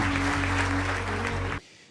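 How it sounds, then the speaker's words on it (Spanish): Congregation applause during an evangelical church service: a dense, steady wash of clapping over a low hum, ending abruptly after about a second and a half. "Dale un fuerte aplauso a nuestro Dios"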